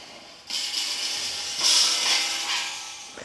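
Small metal nuts being threaded onto bolts while fitting the new handles to a BrewZilla Gen 4 brewing unit, giving a close, short ratchet-like rasp of metal on metal in two brief bursts.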